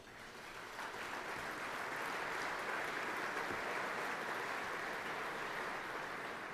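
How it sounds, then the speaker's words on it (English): An awards-ceremony audience claps steadily for about six seconds, a dense wash of applause that swells slightly and then holds without a break. "A big round of applause for UL."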